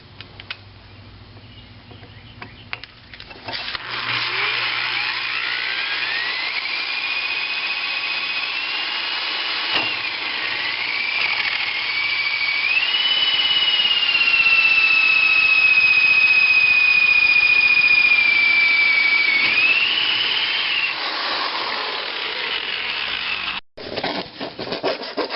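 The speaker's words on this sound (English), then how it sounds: "I'm going to drill the hole that I just marked." A power drill with a 1.5 inch hole saw cuts a hole during a radon system install, a long sustained grinding whine that rises into a squealing pitch as the saw bites, then stops abruptly near the end.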